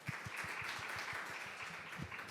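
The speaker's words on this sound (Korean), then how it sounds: "여러분 큰 박수로 맞이해 주시기 바랍니다" A faint patter of applause rises from the audience at a Korean steel-industry climate conference. It is soft and somewhat distant, with a few rhythmic claps standing out.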